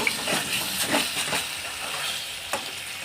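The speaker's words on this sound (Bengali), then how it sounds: "দু থেকে তিন মিনিট আমি এইভাবে মশলার সাথে সিমটাকে কষিয়ে নেব" Broad beans cook with spices in oil in a pan, a steady hissing sizzle with occasional soft stirring scrapes, close and fairly loud.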